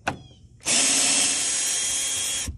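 A power drill spins a screw out of a 2013-2014 Mustang bumper during a Roush fog light install: one loud, close, steady whir of nearly two seconds following a faint click.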